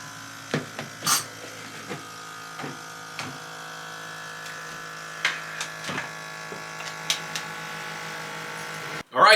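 Two vacuum pumps drawing air from Vitamix and Dynapro blender containers give a steady, close electric buzz with an even hum throughout, broken by scattered clicks and knocks before stopping abruptly near the end.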